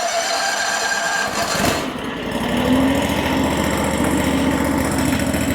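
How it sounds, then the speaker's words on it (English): A small engine on a mini skidder trailer mover starts with a brief burst, then settles into a steady, close, fairly loud idle that continues to the end. "You got to turn the key to start it. Pull the choke out."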